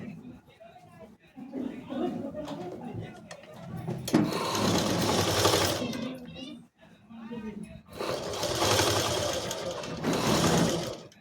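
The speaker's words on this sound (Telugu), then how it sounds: "కావాల్సిన షేప్ని సెట్ చేసుకొని కుట్టు వేసుకోవాలి పైనుండి." A sewing machine top-stitches the neckline of a boat neck top in two long continuous whirring runs, close and loud, with someone talking between and over them.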